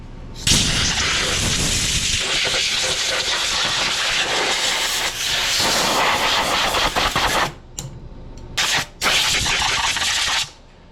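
Compressed air blasts loudly over a riding mower engine with the valve cover off, in long continuous hissing bursts that cut off sharply a few times near the end.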